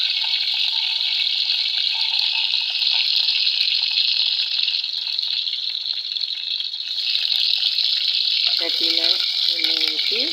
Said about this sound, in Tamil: சட்டியில் எண்ணெய் ஊற்றி கடுகு, வெந்தயம் போட்டு பொரிய வைக்கணும்